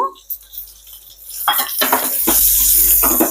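Black raisins and dry fruits frying in a pan, with loud sizzling and scraping from stirring that builds up and continues close by.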